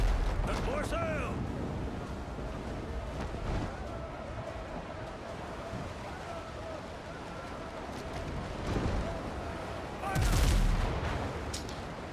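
Naval cannon fire in a sailing-ship combat game, with low booming blasts and crackling volleys over a steady wash of sea and wind, one heavy blast louder near the end.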